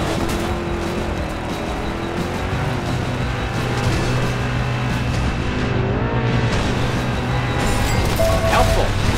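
Race car engines drone steadily in a Driver San Francisco race on Xbox 360, a loud continuous roar with shifting revs and tire noise, close throughout, while voices talk intermittently.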